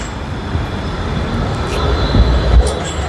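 A tram rumbles past on a street in Sofia, Bulgaria, a steady loud rolling rail noise with low clatter swelling toward the end amid traffic ambience.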